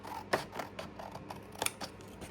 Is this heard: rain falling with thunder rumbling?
no